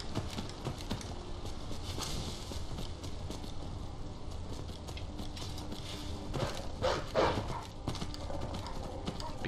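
A horse clip-clops along at a steady walking pace while being ridden in Skyrim, hooves knocking rhythmically with creaking tack and harness, fairly close and moderately loud against faint background ambience.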